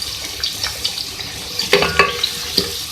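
Onion and green chillies frying in a pan give a soft steady sizzle, with a few sharp clatters and scrapes of a utensil against the pan near the middle.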